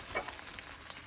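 Birria tacos frying in a pan make a soft, steady crackle and hiss with a few small pops, quiet and without any talking.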